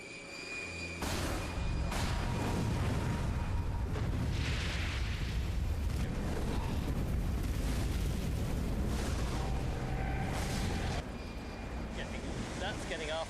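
A huge flamethrower, a film prop built for a dragon in The Hobbit, roars out a sustained blast of fire with rumbling gas afterburn and reignition bursts, loud and continuous for most of the clip before easing off at the end.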